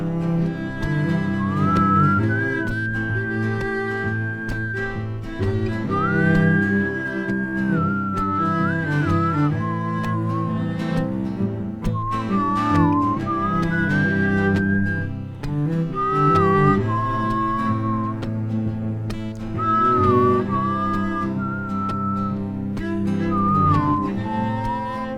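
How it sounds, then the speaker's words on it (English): Melodic human whistling rises above a continuous music track, phrases of the tune repeating with short pauses between them, close and prominent in a live-streamed recording session. "I'm doing melodic whistling"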